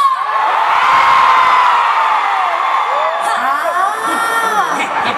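Studio audience on the Eat Bulaga show shouting and whooping loudly in a sustained crowd roar, with individual rising yells standing out near the end.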